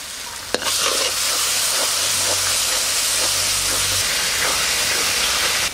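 Ginger and garlic paste frying with onion in a village-style chicken curry, a loud, steady sizzle and hiss that starts with a sharp splash and continues close up with faint stirring scrapes.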